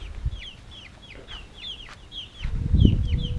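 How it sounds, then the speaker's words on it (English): Several chickens in a coop cluck and chirp softly in short repeated calls, with low rumbling handling noise rising near the end. "got all the chickens in there"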